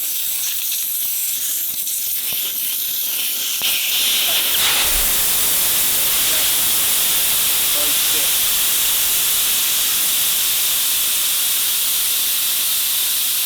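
Pressurised air hisses steadily from a car tyre valve once the valve core is unscrewed, starting after some handling noise and continuing as a loud, unbroken rush to the end.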